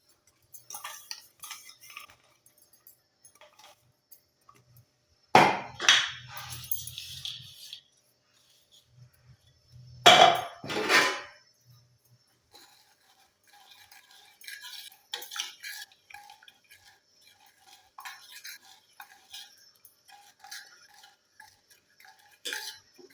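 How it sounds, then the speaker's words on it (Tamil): Fenugreek and black cumin seeds go into warming oil for homemade hair oil: sparse metal spoon clinks and scrapes against the pan, with two louder bursts of stirring and rattling, then faint crackles, near and with no speech. "நம்ம இப்போ எடுத்து வச்சுக்கிற இந்த வெந்தயத்தையும் கரிஞ்சீரகத்தையும் நம்ம சேர்த்துடலாம்"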